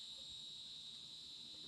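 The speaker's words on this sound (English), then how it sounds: "look for whatever giant cicada bug is in my office" A large cicada-like insect drones with a steady, high, continuous buzzing chirp inside an office, faint but constant throughout with no voices.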